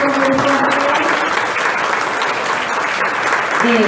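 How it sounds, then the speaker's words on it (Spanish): Strong, even applause from an audience after a talk on open data repositories, many hands clapping continuously at close range with a faint voice underneath. "Un aplauso."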